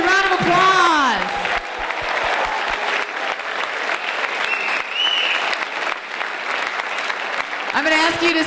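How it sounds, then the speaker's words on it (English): Audience at a spring school band concert applauding the seniors, a loud sustained crowd clapping that starts after a voice and continues throughout, with speech heard briefly at the start and end. "Let's give the seniors a round of applause."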